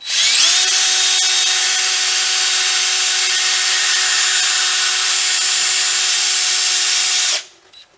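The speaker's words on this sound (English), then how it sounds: "we'll start drilling" A power drill drilling metal on a 1993 Chevy pickup during ball joint replacement whirs steadily at high speed for about seven seconds, a constant grinding whine that cuts off abruptly near the end.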